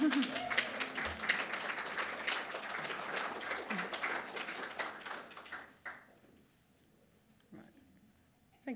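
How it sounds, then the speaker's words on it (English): Audience applause at a talk on farming practice in Australia, moderately loud clapping for about six seconds that then fades out into near quiet. "Thanks for that applause."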